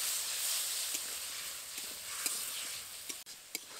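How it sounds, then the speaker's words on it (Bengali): Spice masala sautéing with a little water alongside potatoes, a soft steady sizzle with faint occasional stirring ticks of a spoon in the pan, quiet and close. "এবার অল্প জল দিয়ে সব কিছুকে ভালো মতো করে কষাবো।"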